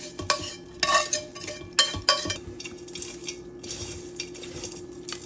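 A spoon stirring potato lemon rice with a prepared paste in a pan: scraping clatters and metallic knocks come in bursts, then a steadier stirring scrape continues, with a faint low hum underneath.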